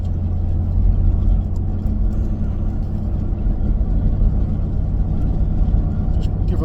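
From inside the cabin, a 2017 Mustang GT fitted with an H-pipe and axle-back mufflers gives a steady, heavy low drone while cruising, continuous and fairly loud with no talk over it.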